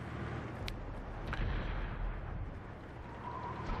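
Heavy tank cannon fire from a World War II tank game featuring the Charioteer, a continuous roar of booming shots and low rumbling blasts, loud and close with no voices.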